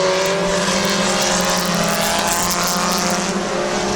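Race cars roaring around the track in a heat race at Midvale Speedway, a loud, sustained engine drone with steady pitch as the pack runs close by, continuous for the whole stretch with no talking.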